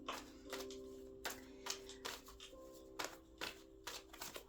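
Tarot cards being shuffled and dealt during a Pisces reading: a run of crisp riffling bursts and snaps, close and fairly quiet, over a faint steady tonal hum, with no voices.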